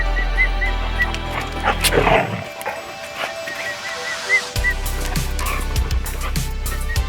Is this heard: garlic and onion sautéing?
no